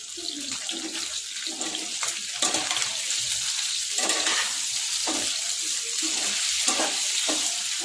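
Potatoes for aloo chaat fry in hot oil with a steady, dense sizzle and crackle that holds throughout at a moderate, close level, with no one talking.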